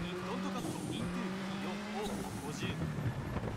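In the WRC 7 rally video game, a rally car slides under braking: a steady engine drone with squealing, skidding tyres building and fading, over faint background music.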